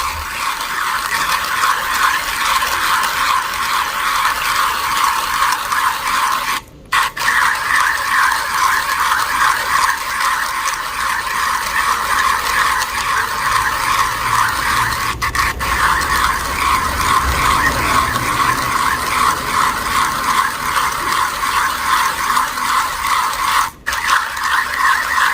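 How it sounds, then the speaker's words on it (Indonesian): A 1Zpresso hand coffee grinder set at 2.9 grinds coffee beans in a steady, continuous gritty crunching that runs for the whole stretch, pausing briefly only twice. "Kita akan giling. Saya pakai One Zippresso kali ini."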